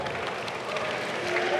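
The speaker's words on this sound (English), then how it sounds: "Give a big round of applause, guys." Audience applause and crowd noise at a Super Smash Bros. Ultimate tournament in London, a dense, continuous wash of clapping that holds steady and swells slightly toward the end.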